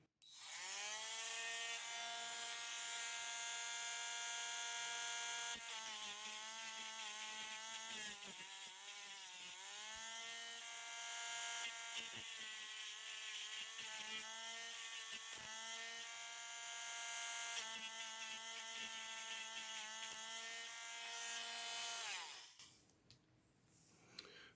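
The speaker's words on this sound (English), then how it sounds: "Now I just need to get rid of the burr and kind of smooth it out a bit." A burr is smoothed off the blunted metal end of a small wallet-sized tool with a rotary tool, giving a steady, loud, high-pitched whine that wavers slightly under load for over twenty seconds before stopping.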